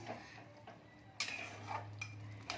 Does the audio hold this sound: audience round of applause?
no